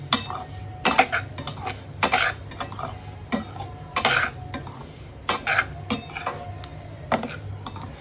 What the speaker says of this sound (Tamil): வாசனை வர வரைக்கும் நல்லா வறுத்துக்கலாம்